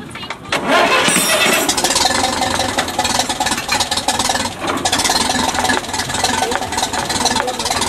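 A restored Ferguson tractor engine cranks and catches, then roars loudly and keeps running with a rough, throbbing rumble close by, at an agricultural show.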